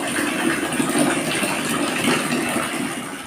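Water runs and splashes steadily up close while clothing covers are washed, a continuous rushing gush lasting the whole moment with no talking.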